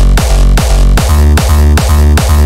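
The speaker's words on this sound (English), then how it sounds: "the bassline is replaced by a hardstyle kick" Loud hardstyle kicks made in Ableton thump in a steady four-on-the-floor pulse, each one a heavy punchy hit with a long distorted pitched-down tail ringing into the next, replacing the bassline.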